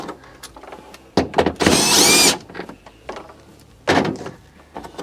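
A power tool whirs in one steady burst of about a second, backing out 1/4-inch screws that hold the LED light in a GE refrigerator, surrounded by clicks, knocks and handling clatter.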